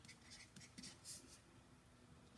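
Pen or pencil on paper, faint soft scratching strokes in short bursts, close and quiet, ending with a brief tap.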